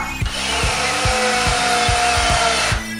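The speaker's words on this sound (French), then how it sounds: "Je visse des 2 côtés." A power screwdriver drives screws from both sides into a board during renovation work on a load-bearing wall, a continuous close whine with regular low pulses about every half second, alone and loud.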